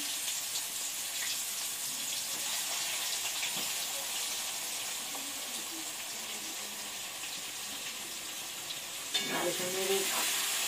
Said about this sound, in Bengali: 2 এলাচ, 2 দারচিনি আর লবঙ্গ 3টে ফোড়নে দিয়ে পেঁয়াজ কুচিগুলো দিয়ে দিলাম।